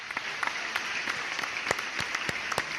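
A few people clap scattered, uneven claps during a podcast recording. The claps are faint and sparse against a steady background hiss.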